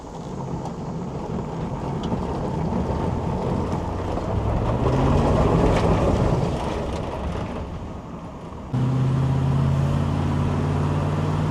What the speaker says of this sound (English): the vehicle sounds really good to me